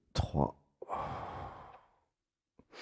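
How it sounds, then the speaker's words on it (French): A deep breath during a guided breathing exercise: a quick sharp inhale, then a long audible exhale lasting over a second, close and alone, with another intake starting at the end. "On fait une respiration."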